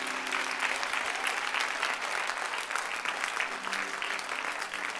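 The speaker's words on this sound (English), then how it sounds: "can you clap your hands unto God?" Church congregation clapping hands together at a worship conference, dense continuous applause holding steady for several seconds without speech.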